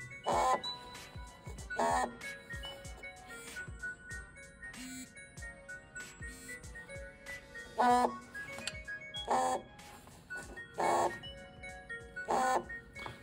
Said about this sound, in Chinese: 然后我们可以来定一个24的闹钟，来看一下它是一个什么样的感觉